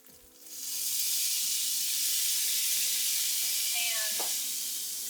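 Tofu sizzles steadily in a stovetop pan after a quiet start, with a spatula scraping and stirring in a regular rhythm and a brief clatter near the end.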